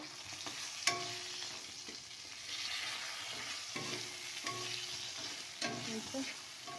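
Food fries in a pan with a soft, continuous sizzle, broken by several sharp utensil clinks and scraping stirs, close but quiet, with no talking.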